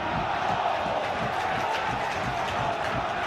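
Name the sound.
football crowd cheering at Bournemouth v Middlesbrough match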